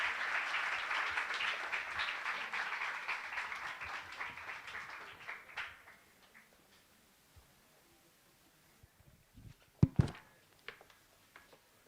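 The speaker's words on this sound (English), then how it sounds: "Can we have a big round of applause for none other than the man himself" An audience at a career-and-innovation session applauds a speaker, a close, dense round of clapping that fades out over about six seconds, followed by near silence and a few scattered knocks.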